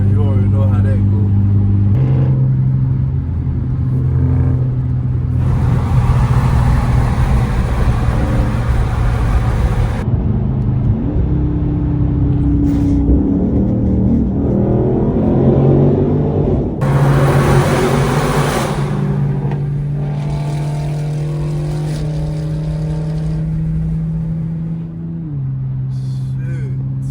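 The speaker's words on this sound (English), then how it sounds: "Get to hear my car from the outside" A Dodge Scat Pack car is heard from outside as it drives. Its low engine drone steps up and down in pitch through shifts, with louder bursts of revving along the way.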